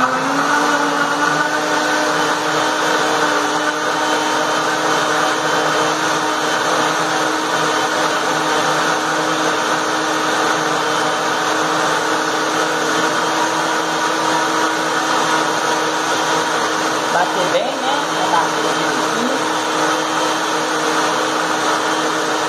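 A blender runs steadily at high speed, blending lemon detox juice with water in one loud, continuous whir that holds without a break from start to finish.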